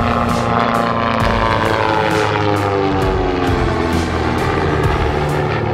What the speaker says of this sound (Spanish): Como el Skymaster también cuenta con un motor delantero que opera en aire no turbulento, su sonido es diferente al de un avión puramente retropropulsado.